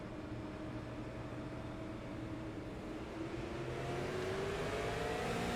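A Super Late Model race car in the iRacing sim accelerates off the green flag, its engine a steady loud drone whose pitch slowly climbs, with the roar swelling toward the end and no talking.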